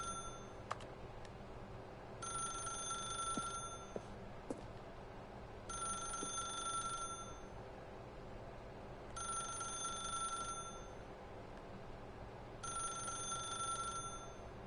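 A telephone in The Stanley Parable rings four times in evenly spaced electronic bursts, fairly quiet over a low background hum, with a few faint ticks in between.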